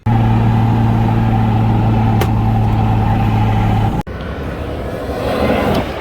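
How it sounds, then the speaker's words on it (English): A drift car cruises along the freeway in the rain, a loud steady engine drone with tyre and road roar filling the cabin, briefly cut by a sharp break before the rushing road noise continues. "my car's cruising"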